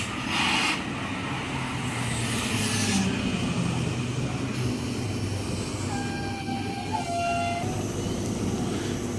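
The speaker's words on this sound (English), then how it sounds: "S46 now departing platform number 1, Schofield service." Passenger train departing a station platform at Casula on a Schofields service, a loud steady rumble of the train pulling away with whining tones rising in the second half, no talking.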